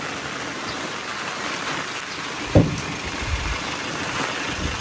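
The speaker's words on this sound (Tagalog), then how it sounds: "Lakas ng ulan." Heavy rain pours steadily in a dense, hissing wash, with a single louder thump partway through and a faint engine hum underneath.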